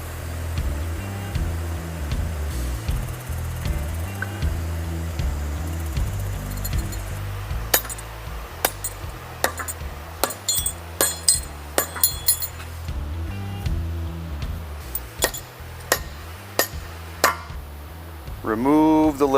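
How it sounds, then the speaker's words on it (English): Metal parts clink and knock as a piston slides into a hydraulic cylinder on a Vermeer machine, a series of sharp irregular taps over a steady low motor hum. "Now we'll insert the piston into the cylinder."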